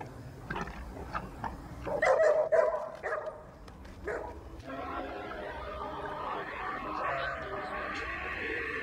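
A dog barks and yelps in a busy, tense scene, the barks coming in a cluster early on over background noise and other sounds, with voices mixed in.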